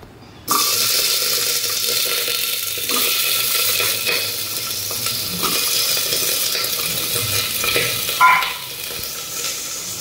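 Chopped papaya, carrot, capsicum and potato with cumin and a little salt drop into hot oil, bursting into a loud, steady sizzle with occasional stirring scrapes.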